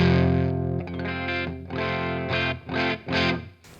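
An electric guitar on a live rig's clean channel, played through effects with a slight edge, rings out a sustained chord and then a few rhythmic strummed chords, close and clear.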